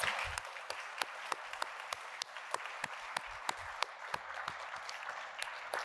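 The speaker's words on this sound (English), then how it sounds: "let's give them all a big round of applause" Applause from a civic club audience at a panel discussion on rising property taxes, honoring three panelists; a dense, steady clapping crowd with a few sharper near claps standing out, lasting several seconds without talk.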